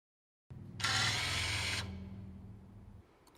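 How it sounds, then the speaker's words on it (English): A Range Rover electronic parking brake motor retracts with a close, steady whirring hum that starts after a moment of silence, rises briefly into a brighter buzz, then winds down and stops. "Press enter to retract the parking brake."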